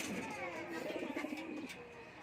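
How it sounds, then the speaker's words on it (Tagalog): Pigeons in a coop make soft, rolling coos, with a few close, low calls in quick succession over a faint background. "Bali ang kalapati lang natin dito natin sa taas."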